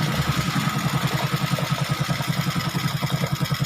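A bored-out Honda XRM 125 motorcycle engine with a noisy carburetor idles close up, giving a loud, steady, rapid pulsing thump without pauses.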